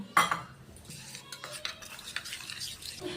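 Kashmiri chilli powder being stirred with water into a paste in a bowl for a Bengali doi potol dish, with quick close clinks and scrapes of a spoon against the vessel, one sharp knock near the start.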